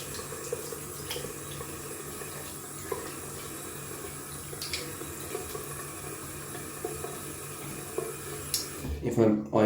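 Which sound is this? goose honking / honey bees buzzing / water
water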